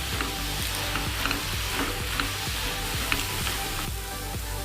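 Spinach (palak) sautéing in butter in a pan, a steady close sizzle and crackle with faint scraping stirs recurring throughout, no voices.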